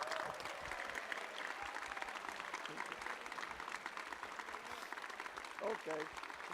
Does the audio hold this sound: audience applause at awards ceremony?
yes